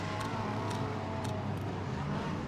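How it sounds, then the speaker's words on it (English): Lexus race car engine in the Le Mans Ultimate racing game at Fuji, a steady, loud, close-up drone held without pauses throughout. "This Lexus, I really think it needs revs. Revs big time."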